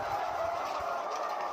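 A dense, steady murmur of many hens fills a layer poultry farm, a continuous crowded din with no single bird standing out.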